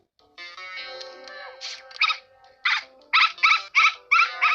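A dog in a bedroom whimpers and whines, then gives a run of sharp, close barks in a steady rhythm, with no talking.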